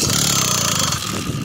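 A Phantom 85 bike engine fitted with an MS-460 piston runs rough and knocks: a loud, close, continuous buzzing rattle with no pauses.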